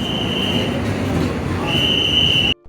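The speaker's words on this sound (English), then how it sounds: "Our train from Kottayam to Chennai Central has arrived." A train pulls into Kottayam station in Kerala, a loud, close, rumbling roar of wheels on rails with a sustained high wheel squeal that fades and returns before the sound abruptly cuts off.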